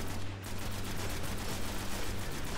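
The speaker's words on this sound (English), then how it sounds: "Do some focus fire on this Minotaur." Gunfire in the Destiny video game during a co-op strike on Venus, focused on a Minotaur, heard as a dense, continuous rattle of rapid shots layered into a steady roar of combat noise.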